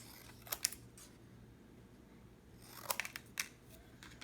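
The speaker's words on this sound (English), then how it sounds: "I'm going to cut this into some pieces." Scissors snip through slightly thick craft paper or card, a quick pair of cuts near the start and a cluster of crisp snips later, close and quiet against a faint room hum.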